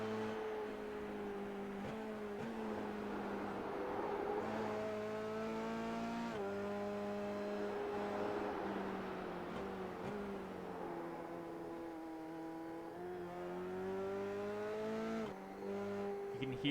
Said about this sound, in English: You can hear how much he's kind of feathering the throttle to make sure that he gets around this racing circuit here at Barber Motorsport Park